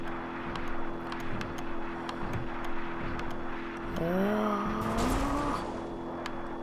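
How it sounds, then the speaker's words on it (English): A car in BeamNG.drive held at redline in sixth gear, a steady, loud engine drone with a rising whine and tire squeal partway through. No one talks. "We're in, we're maxed out six gear, more redlining."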